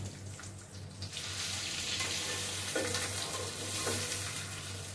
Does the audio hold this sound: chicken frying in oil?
yes